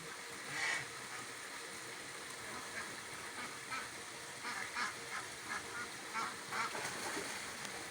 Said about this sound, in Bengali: ওই যে রাজহাঁস নামার জন্য চেষ্টা করছে।